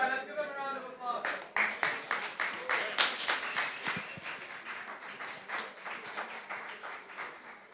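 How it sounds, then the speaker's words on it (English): An audience at an NFT art meetup in a room claps in quick, distinct strokes that start after a brief spoken line and gradually thin out. "let's give them a round of applause."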